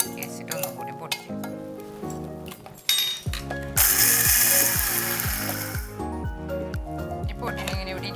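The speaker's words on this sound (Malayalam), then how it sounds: "നമുക്കൊന്ന് ഈ സൈഡിലത്തെ അരിമണിയൊക്കെ കൂടി ഒന്ന് ഇളക്കി വെച്ചിട്ട് ഒന്നും കൂടി പൊടിക്കും" A mixer grinder grinds soaked rice into powder, starting with a short buzz and then running as a loud, steady whirring roar with rhythmic pulsing, while a person talks over it.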